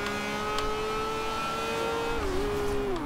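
A 2013 Lamborghini Veneno in the racing game Forza Horizon 2 holds a steady, loud engine drone, pitch dipping briefly then climbing as it revs on, heard alone.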